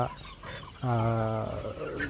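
Sonali chickens in a crowded chicken house let out a single close, loud cluck with a clear tonal pitch, preceded by faint background noise.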